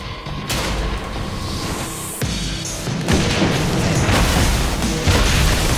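Rocket blasts from Saints Row IV gameplay, a dense run of loud booming explosions that keep rolling one after another, with a sharp fresh burst partway through and another near the end.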